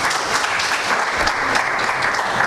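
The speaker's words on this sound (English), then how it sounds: "Nobody clapping?" Audience clapping after a tournament cash prize is announced, a brisk burst of many hands applauding at once, loud and sustained across the whole moment.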